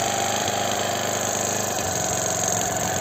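A Stihl chainsaw engine, a 2010 model, runs steadily after a quick start, loud and close with a continuous buzzing drone and no talk over it.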